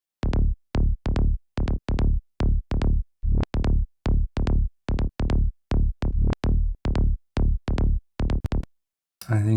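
A psytrance offbeat bassline programmed in Ableton with some notes reversed, a steady run of short punchy bass hits with swelling reversed tails, loud and alone, ending with a brief different sound.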